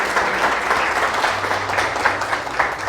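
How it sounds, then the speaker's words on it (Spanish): Applause for a doctor after a lecture at a training event, steady dense clapping from a gathered audience that carries on for several seconds under a faint low hum. "aplauso para el doctor Marco Tulio Gutiérrez"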